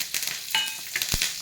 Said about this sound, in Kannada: ಸಾಮಗ್ರಿಗಳನ್ನು ಹಾಕಿ ಒಗ್ಗರಣೆ ಕೊಡುವ